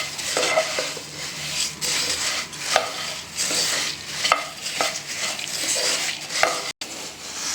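Masala puffed rice (kara pori) being tossed and stirred in a pan, with a steady dry rustle and repeated scrapes and clinks of a spoon against the metal, close and fairly loud, no voices.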